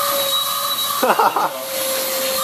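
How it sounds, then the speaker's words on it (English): Vacuum cleaner cleaning mud off trousers, a steady whining motor hum running throughout, with a short burst of speech over it near the middle. "we're using a vacuum cleaner to clean it up"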